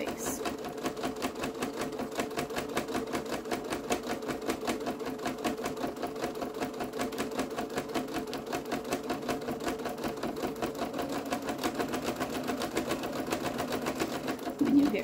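A sewing machine back tacks stitches on a fabric tote bag near a zipper, its rapid needle clatter running steadily and close throughout, with a brief louder bump at the very end.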